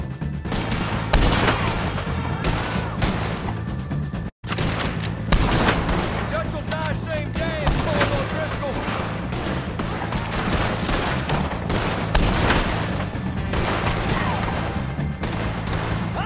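Dense gunfire in a Red Dead Redemption shootout against O'Driscoll gang members, loud and continuous with overlapping shots, while voices shout in the background.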